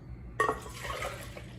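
Coffee pours into a NitroBrew kettle, beginning with a sudden clink and splash and then settling into a short, close trickle of liquid filling the vessel.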